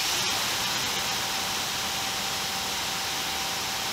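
A Greenworks 1700 pressure washer fitted with a 2.5 nozzle sprays continuously, producing a loud, steady broadband hiss that stays constant throughout, with one brief click near the start.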